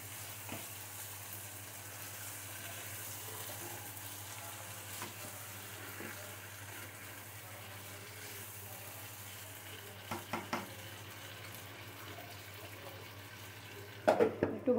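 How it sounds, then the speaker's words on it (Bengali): Beef liver, boiled beforehand with turmeric, salt and ginger, being sautéed in a pan: a steady, quiet sizzle running throughout, with a few short clatters of utensils near the end. "একটু ভালো করে কষাবো।"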